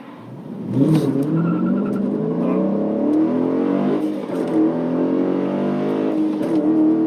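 A 2019 Dodge Challenger R/T Scat Pack Widebody with a manual gearbox launching hard with wheel spin, its engine roaring up loudly through the revs and shifting gears, close and sustained, with faint tire chirps.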